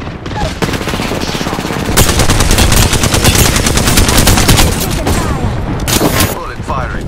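Sustained automatic gunfire from an Apex Legends firefight, loud rapid bursts of bullets rattling almost continuously with brief gaps, close and dense throughout.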